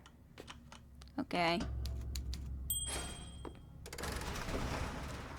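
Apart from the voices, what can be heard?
typewriter typing in Bioshock Infinite video game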